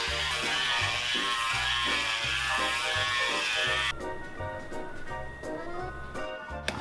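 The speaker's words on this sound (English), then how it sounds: "now we're going to take our Dremel and smooth out the inside of the band" A Dremel rotary tool whirs against the inside of a metal coin ring band in rapid pulsing bursts, close and steady, then shifts to a lighter, quieter grinding partway through.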